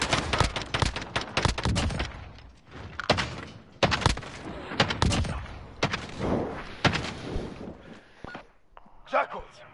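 Rapid gunfire in a Search and Destroy video game match, repeated sharp bursts and single loud shots in close clusters with brief pauses between volleys.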